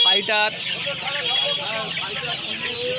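Chickens at the Uluberia poultry market cluck and squawk, one sharp call standing out early, over a busy background of market chatter and voices.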